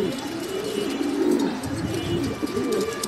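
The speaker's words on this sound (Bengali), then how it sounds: "একদম টপ কোয়ালিটির আফসান গ্রিজেল রেসার হুমা কবুতর" Afsan grizzle racing homer pigeons coo softly up close, giving low, rolling throaty calls in quick repeated phrases. The calls are steady and continuous, with no voices.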